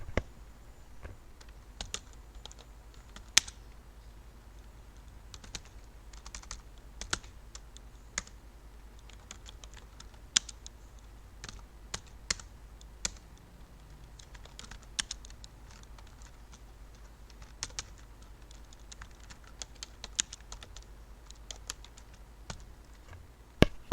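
Rapid computer keyboard typing clatters steadily throughout, with irregular bursts of clicks and occasional louder key strikes, close up and alone.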